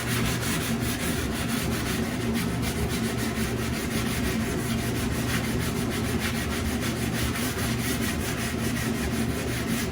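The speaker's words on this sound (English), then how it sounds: "Just touching the wood right now, getting the fiberglass filler off the wood" Steady, close sanding of fiberglass filler off wood on a 1965 Dodge Dart front panel: a continuous gritty rubbing scrape against wood that keeps going without a break.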